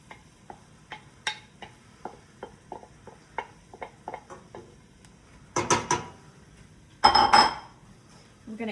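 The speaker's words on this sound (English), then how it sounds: "So now we're gonna add the ground beef." Ground beef goes into a pan of simmering Bolognese sauce and gets stirred, with light clinks and taps of a utensil against the pan followed by louder scraping and sizzling bursts, close by with no talking.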